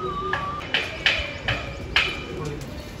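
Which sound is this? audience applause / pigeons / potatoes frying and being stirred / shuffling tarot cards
pigeons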